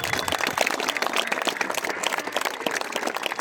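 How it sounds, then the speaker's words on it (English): An audience at a Yorkshire wartime event applauds, with dense, steady clapping from a sizeable crowd that holds evenly for several seconds without a break. "Round of applause, ladies and gentlemen."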